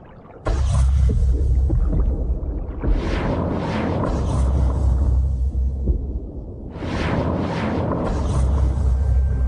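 Low, rumbling underwater pulses and whooshing bursts from mating fish repeat over several seconds against a constant deep hum.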